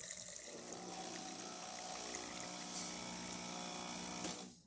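A Breville Dual Boiler espresso machine dispensing hot water, a steady hissing, gurgling pump-driven flow close up that fades out at the end.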